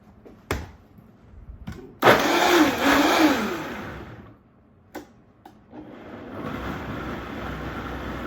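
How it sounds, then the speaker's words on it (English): A blender whirs loudly for about two seconds, stops, then starts again and runs steadily while pureeing Tuscan ribollita soup, with a few clicks and knocks in between. "I'm going to put it on my mixer, my blender, and I'm going to put the cover on."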